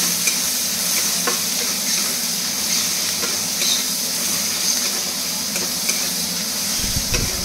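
Finely chopped onion fries in hot oil in a pan, giving a steady loud sizzle and hiss throughout, with occasional stirring noises close by.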